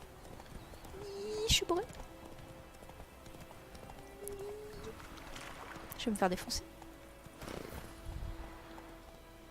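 Hoofbeats from a horse in a video game, rhythmic clip-clop layered with game effects and an occasional whinny, while a player talks over them.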